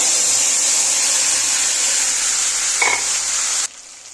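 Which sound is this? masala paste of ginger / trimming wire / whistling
masala paste of ginger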